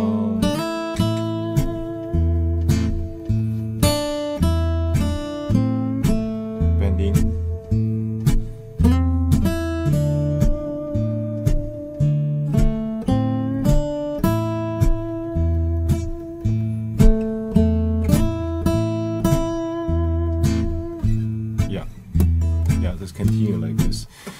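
Guitar plays the folk tune Wayfaring Stranger in second and third position, a steady run of plucked notes and low bass tones in an even pulse, close and clear with no voice.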